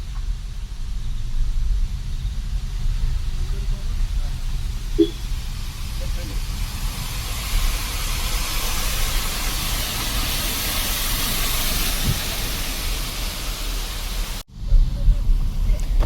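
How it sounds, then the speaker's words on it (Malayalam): A large roadside waterfall on the Coorg road from Sidhapura to Madikeri, swollen by August monsoon rain, roars as a continuous broad rush of falling water, briefly cut near the end. "ഈ വരുന്നതാണ് ആ റോഡിൽ കണ്ട ഏറ്റവും വലിയൊരു വെള്ളച്ചാട്ടം എന്ന് പറയുന്നത്"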